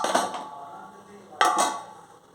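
A metal lid clanks down onto a pot of brinjal and dried prawn curry in a few quick, bright rattles: a pair of taps, a pause, then a louder double clatter that rings briefly.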